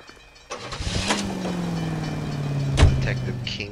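Car starting and pulling away in the video game L.A. Noire, a door thunk and engine turnover rising into a steady mid-pitched idle and rev, with a sharp clunk near the end.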